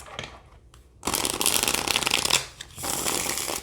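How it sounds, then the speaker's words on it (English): A pocket-size Sun and Moon tarot deck in a tin is shuffled by hand in two quick, crisp riffling bursts with a brief pause between them, close and clear. "That's a really good deck shuffle for being pocket size."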